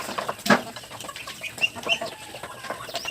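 Pet ducks at feeding time quack and cluck in short, overlapping calls at close range over a light outdoor background.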